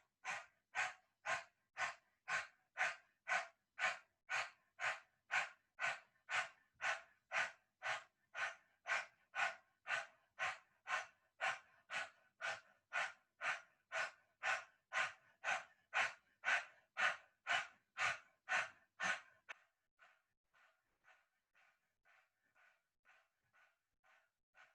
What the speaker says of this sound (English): begin breath of fire through an open mouth with your tongue out